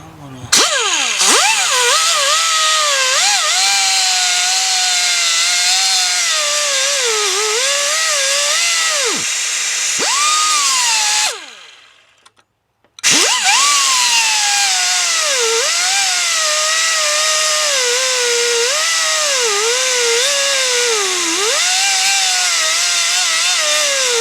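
A rotary cutter grinds an indentation into a smooth timing chain part during a timing chain replacement on a Kia or Hyundai engine. A loud, steady, high whine wavers in pitch under load, stops briefly midway, then starts again and runs on.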